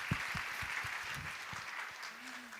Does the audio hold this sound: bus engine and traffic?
no